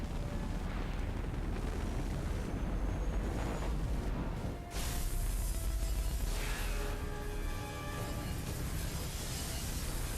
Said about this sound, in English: I like how the gigantic explosion has to be checked out instead of just realizing that the boom is bad